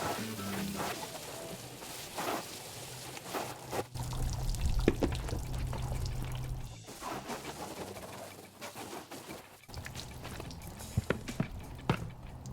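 A car wash mitt sloshed and rinsed in a bucket of water, close splashing and gurgling, with pigeons cooing faintly in the background.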